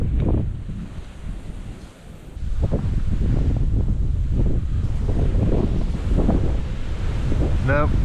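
Strong wind buffets the microphone at an outdoor shooting range in a constant roaring rush, with gusty low rumbles throughout and a brief faint whistle near the end.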